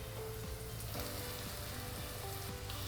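Chunks of papaya hitting a hot oiled pan in a Kerala-style stir fry, already seasoned with chili powder and red and green chilies, giving a steady close sizzle with faint stirring knocks throughout.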